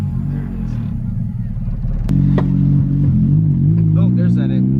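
Honda Civic EG hatchback project car on its first drive, engine rumbling steadily up close with a rise in revs partway through, people talking over it.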